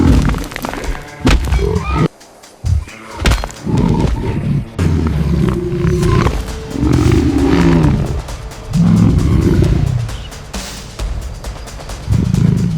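Lioness attacking a baboon in the wild, with loud close roars, growls and snarls, heavy thumps and scuffling in bursts throughout.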